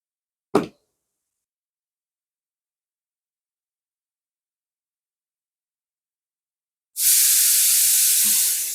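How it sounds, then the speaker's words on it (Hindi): A pressure cooker cooking lentils in a home kitchen lets off a loud, steady hissing whistle of escaping steam for nearly two seconds, following a single brief knock and a long quiet stretch. "कुकर की सीटी की वॉइस आ रही है"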